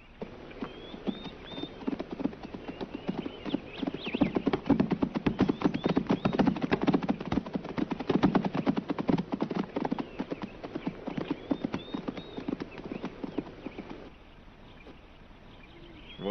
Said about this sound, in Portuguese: Os cavalos fugiram em direção às montanhas.